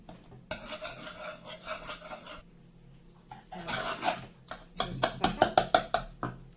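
Ingredients for an orange tart are stirred together in a bowl, giving repeated close scraping and clinking strokes in bursts, growing sharper and more rhythmic toward the end.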